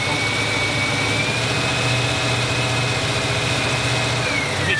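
A 1957 Ford Ranchero engine idles roughly with an electrical misfire, a steady loud mechanical drone with a low throbbing hum and a faint whine, close up with no talking.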